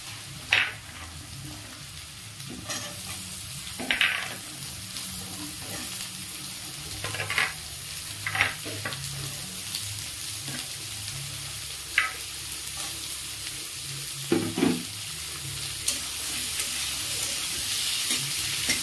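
Beetroot fries in a pan with onion, garlic and green chilli, giving a continuous close sizzle. Repeated scraping stirs land every few seconds, with clinks from the spoon against the pan.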